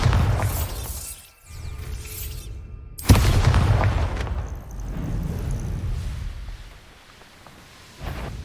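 Explosive blasts from the Bombarda spell in Hogwarts Legacy, heavy booming bursts with shattering debris, two strong impacts a couple of seconds apart followed by rumbling, and a further burst near the end.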